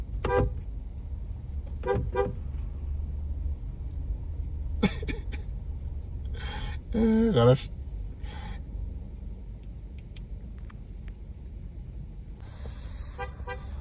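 A car sits in a city traffic jam while short horn toots sound outside, some near and some distant, scattered over a quiet engine rumble, with a brief spoken word and a cough inside the car.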